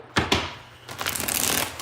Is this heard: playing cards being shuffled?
yes